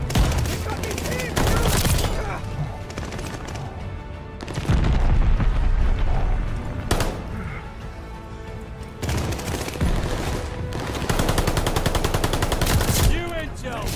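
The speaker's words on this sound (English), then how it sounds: "Teammate pulled a bombing run, heads up!" Bombing run in a multiplayer shooter video game: loud, dense bursts of gunfire and booming explosions come in heavy waves with brief lulls between them, close and overwhelming.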